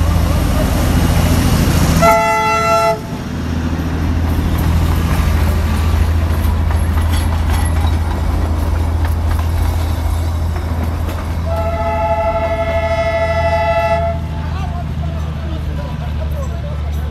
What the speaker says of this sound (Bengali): জয় রাইডিংয়ের সময় টয় ট্রেন বাতাসা লুপে গোল একটি চক্কর মেরে কিছু সময় দাঁড়ায়।